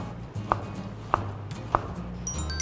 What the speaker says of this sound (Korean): 조미액을 짜낸 유부는 이렇게 얇게 채 썰어 주시고요